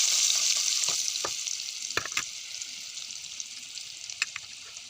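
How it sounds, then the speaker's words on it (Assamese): Garlic and onion sizzle steadily in a pan after fish was fried in it, with a few sharp scrapes of a spatula stirring them, the hiss fading slightly over time. "নহৰু দিছোঁ, এনেকৈ লৰাই দিছোঁ অলপমান"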